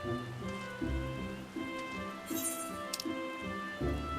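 Rain falls in the Final Fantasy XIV video game, a steady patter of drops under soft background music tones, with a brief brighter splash partway through.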